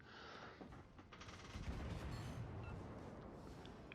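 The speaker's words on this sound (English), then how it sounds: "the secondaries from the Atlantico have lit up" Dense, rumbling volley of naval secondary guns firing from the battleship Atlantico in the World of Warships: Legends game, steady booming fusillade with crackling shots layered throughout, fairly distant and continuous.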